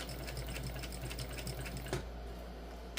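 A sewing machine backstitches on a crossbody bag in a close, rhythmic clatter of rapid stitches. It stops abruptly partway through, and a faint click follows.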